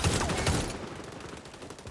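Rapid automatic gunfire from the XDefiant shooter game rattles in quick repeated bursts, loud at first and then thinning into scattered shots.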